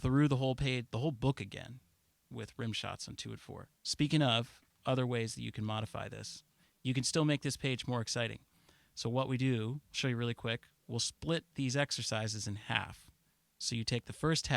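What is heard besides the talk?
No everyday noise stands out behind the speech.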